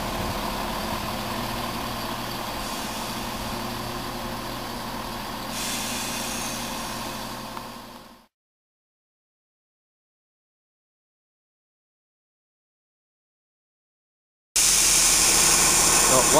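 Diesel train 17205 pulls out of Needham Market station on a service to Ipswich, its low engine rumble droning steadily before cutting off into silence. A loud, rough burst of noise returns at the very end.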